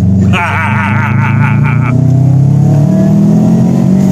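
A Subaru blob-eye engine revs hard up to about 6000 RPM, the loud rising roar peaking and then settling into a strong idle, with excited voices talking over it close by.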